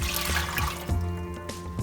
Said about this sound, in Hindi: अभी मैं इसमें 2 कप पानी डाल रही हूँ